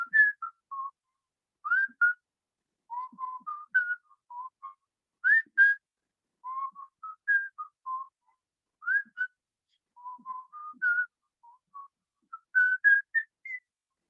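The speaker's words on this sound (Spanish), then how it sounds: "Voy a silbar para ustedes." A person whistles a short tune alone, in brief phrases with pauses between them, clear and fairly close in an otherwise quiet space.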